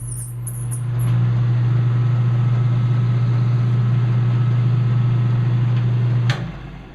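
A lathe motor hums steadily and loudly after being switched back on, a constant low drone that runs for about five seconds before cutting off, with a short spin-up at the start.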